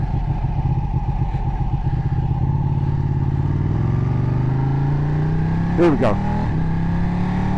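Ducati 1299 motorcycle ridden on UK roads, its engine note rising and falling through the gears with a loud close rasp and a brief sharp rev burst near the end, a rider speaking briefly over it.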